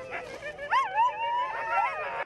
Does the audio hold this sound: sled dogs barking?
yes